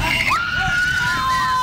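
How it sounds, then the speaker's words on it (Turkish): A woman lets out a drawn-out scream of pain after being kicked during a street brawl in Istanbul, her voice rising and holding over a noisy background of crowd commotion and shouting. "Acı içinde çığlıklar atan kadın yere yığıldı."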